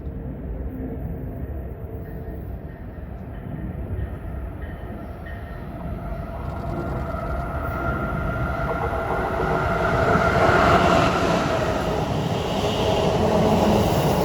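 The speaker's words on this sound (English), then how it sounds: "was stuck behind the transit train on track 4." A transit train rolls past on a New Jersey line as a long continuous rumble that gradually swells and brightens, loud and close, with no voices.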